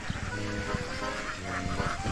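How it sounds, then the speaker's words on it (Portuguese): Large flock of domestic ducks in the Mekong delta, dense overlapping quacks and honks in a steady noisy chorus, moderately distant and continuous. "Os patos têm preferência, e não são poucos."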